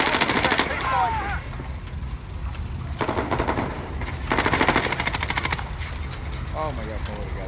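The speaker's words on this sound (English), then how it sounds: "Got a sentry gun on station." Rapid automatic bursts from a deployed sentry gun in an online shooter game, repeated fire clattering in several clusters over a steady backdrop of game noise, with a player talking at times.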